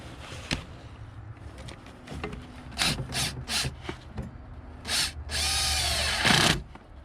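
Power tool tightening a fuel pump on a 2006 Mercedes Sprinter, a series of short whirring bursts building to a longer continuous drill whine near the end, with some clinks between.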